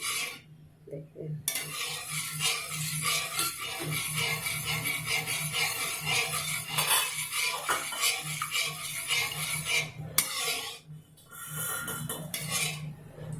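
Steady scraping and stirring of melting, caramelizing sugar in a pan for semolina and milk halwa, with continuous utensil-on-metal rasping and occasional clinks, close and fairly loud throughout with brief pauses.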